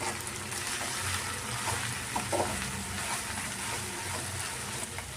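Okra stirred and fried in a pan: a steady, close frying sizzle with a few soft scraping stirs partway through, continuous and unbroken by speech.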